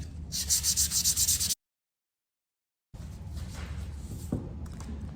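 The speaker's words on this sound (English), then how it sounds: "We want to sand our board so we can put our stencil on for our names." A wooden sign board being sanded by hand, close rhythmic scratchy rubbing strokes, a gap of silence, then steadier rougher sanding with a brief knock.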